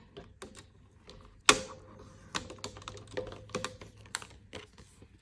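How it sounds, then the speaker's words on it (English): A blade slices through a paper envelope cut-out, giving a sharp cutting snap followed by a run of quick, light clicks and taps, close and quiet with no talk. "And this slice is going to open the envelope."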